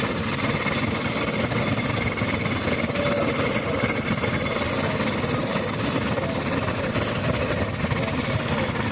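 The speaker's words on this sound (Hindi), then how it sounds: "यहाँ से हम अपने ट्रैक्टर को लेंगे" A 53-year-old Zetor 2011 tractor engine running steadily, a loud close continuous rumble with a rough, even vibration that holds unchanged throughout.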